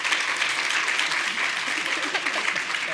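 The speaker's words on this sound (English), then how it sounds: "Let's give her a big round of applause." A conference audience at a restorative justice event in a law school gives a speaker steady applause. Many hands clap densely and evenly for a few seconds, close and fairly loud.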